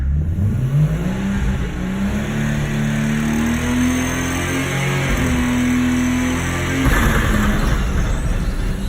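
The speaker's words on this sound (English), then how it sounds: "Rev it up, and don't be afraid to rev it." A car engine revved hard during a clutch-and-brake launch, a loud sustained drone whose pitch climbs steadily, then a brief change near the end as it releases.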